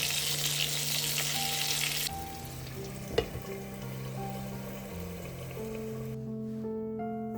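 Pork tenderloin simmering in broth gives a steady, close sizzling hiss, loudest at first and then softer, with a brief clink partway through and faint tonal background music underneath.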